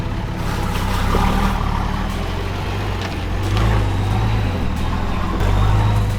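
A 4WD vehicle grinds up a deeply rutted off-road track around a bend, its engine a steady low drone that swells and surges as it climbs, close and loud.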